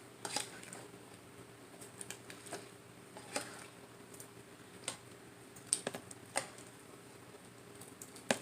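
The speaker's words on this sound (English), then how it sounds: "now let's dish these out" Cooked zucchini and yellow squash being spooned out of a pot for canning, with faint scattered clinks and scrapes of utensils against cookware, sparse and quiet, with no talking.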